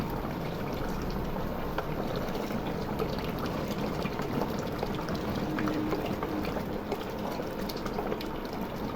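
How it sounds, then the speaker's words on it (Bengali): Beef simmering in milk in a covered pot, a continuous low bubbling and hissing that holds steady and even throughout, fairly quiet and with no voices. "মাংসটা আমি দুধের উপরে রান্না করতেছি"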